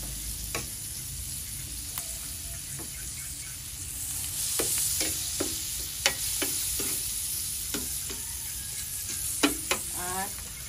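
Garlic frying in margarine in a pan, a steady bright sizzle with occasional utensil clicks and stirring taps, close and continuous.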